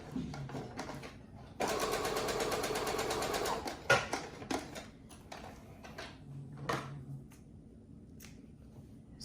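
A sewing machine stitching a dart on a fabric face mask runs in one fast burst of several seconds, followed by softer handling clicks and rustles nearby.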